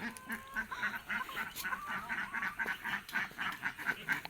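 Kadaknath chickens cluck faintly in quick, rhythmic bursts on a natural farm, a soft, steady run of calls somewhat distant, with no voices.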